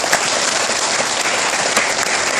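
Sustained audience applause filling the hall, a dense steady wash of many hands clapping at close range with no voices on top.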